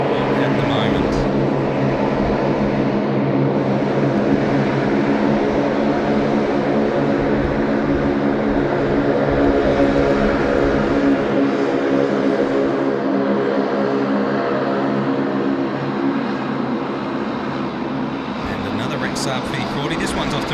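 A plane departing Sydney Airport for Merimbula roars steadily and loudly throughout, a broad continuous engine drone with voices talking over it.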